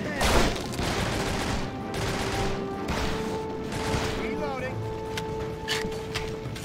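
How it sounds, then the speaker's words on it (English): Uzi submachine gunfire in the game Urban Chaos: Riot Response, dense crackling bursts running steadily through the whole stretch under sustained chatter and game noise, with a loud flurry near the start. "They got Uzis."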